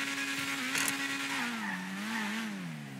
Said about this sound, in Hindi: तुम आवाज़ सुनो फरारी की। ओ भाई ये देखो पटाखे मार रही है